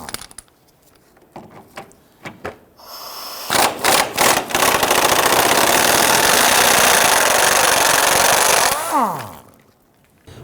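Ratcheting 14mm socket wrench loosening control arm bolts on a 2008-2013 Infiniti G37 front suspension, with short metallic clicks, then a loud sustained burst of rapid mechanical rattling for several seconds that stops abruptly.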